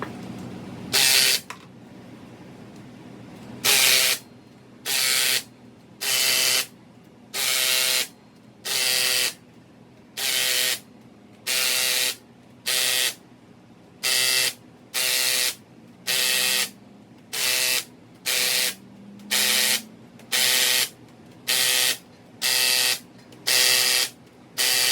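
A ratcheting torque wrench tightens the bolts of an unsprung clutch and flywheel on an S550 Mustang drift car, giving about eighteen steady, evenly spaced ratchet strokes, loud and close, with no talking.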